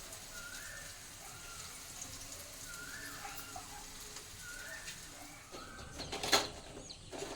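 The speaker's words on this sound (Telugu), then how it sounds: "బ్రెడ్ ఫ్రై చేస్తావా? ఫ్రై చేస్తాను." Bread pieces frying in a pan for bread halwa, a faint steady sizzle with small crackles and a brief louder stir near the end, no talking.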